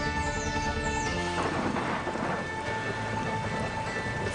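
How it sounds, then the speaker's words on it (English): A thunderstorm over cloud forest in the western Andes, with steady rain hissing throughout and a rolling roll of thunder building up midway, loud and close. "Frequent, unforgiving thunderstorms batter the landscape almost every day."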